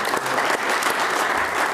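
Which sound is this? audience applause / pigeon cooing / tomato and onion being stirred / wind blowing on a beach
audience applause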